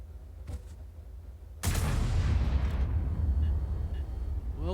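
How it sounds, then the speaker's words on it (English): In a tank battle video game, an ISU-152 gun fires one sharp, heavy blast, and the boom rolls and decays over a few seconds. A faint earlier shot sounds in the distance, and no one speaks. "that was the ISU-152 firing around in one of the enemy tanks"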